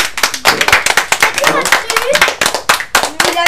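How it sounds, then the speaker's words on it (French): A small group claps on a radio show, the sharp individual hand claps distinct and fairly close, with voices talking and cheering over them throughout. "on peut applaudir Kezia, bravo."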